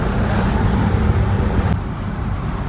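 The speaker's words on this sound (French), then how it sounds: "On entend d'ailleurs un moteur souple à souhait, agréable, conduite vraiment à l'américaine." A 1978 Ford LTD Landau with a 5.8-litre Windsor V8 runs smoothly, a steady low engine drone mixed with wind and road noise from inside the moving car, with no talking.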